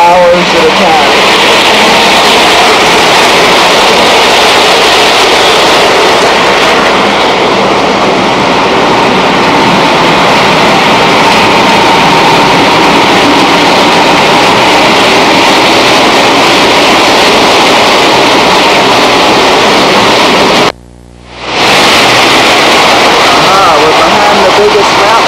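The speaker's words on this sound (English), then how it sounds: "watch the trains come running by like this" Lionel model trains running on a home layout, a loud, continuous rumbling and rolling drone that goes on steadily for a long stretch, with a brief dropout near the end.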